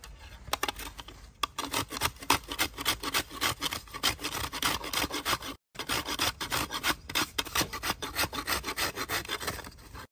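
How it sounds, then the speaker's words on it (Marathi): Coconut is grated by hand for a methi masala, giving rapid, rhythmic rasping scrapes close up, with a very brief break midway. "चला आता आपण खोबरे किसून घेणार आहोत"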